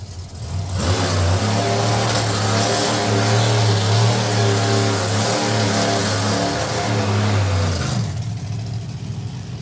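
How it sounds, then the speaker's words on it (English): A pair of supercharged, blown drag racing cars runs at an FIA drag racing main event. A loud, sustained, droning engine roar holds steady for about seven seconds before cutting off. "So this will be the first pair of proper blown cars that our guests in VIP actually get to hear or experience."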